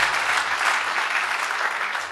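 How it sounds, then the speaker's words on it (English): An audience claps in a dense, steady burst of applause at a talk by young company founders, loud and continuous throughout the short span. "can we have a huge round of applause"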